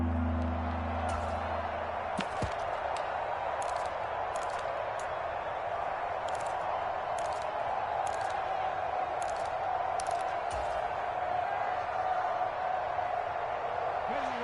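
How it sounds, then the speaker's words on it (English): Steady crowd roar from a stadium in a football video game, a continuous loud wash of many voices swelling ahead of a big third down, with brief sharp bursts on top. "the crowd getting into it as we come up on a big 3rd down"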